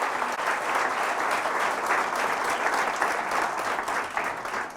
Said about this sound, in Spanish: Fuertes aplausos al Rey de Reyes y al Señor de Señores.